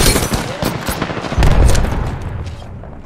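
Gunfire in Apex Legends comes as rapid bursts of close, loud shots with heavy booming impacts in the middle. A voice can be heard briefly amid the firing.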